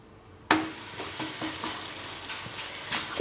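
Malwi flatbread dough sizzles in a hot pan lightly coated with oil, a steady close frying hiss with faint scraping and handling taps, starting abruptly and continuing without voices.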